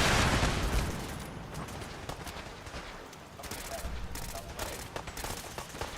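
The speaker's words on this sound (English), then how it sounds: "Why didn't my rocket stop firing?" Rocket launcher firing in the video game Fallout 4, a dense barrage of loud booming blasts and rattling gunfire that starts heavy and continues in bursts throughout.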